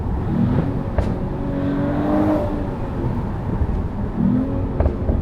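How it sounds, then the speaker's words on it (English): Mercedes-AMG CLE 53 Cabriolet accelerating with the top down, its engine droning steadily under wind rush while a few sharp exhaust pops and bangs crackle out near the start and end. "Oh, you can hear quite a lot of pops and bangs."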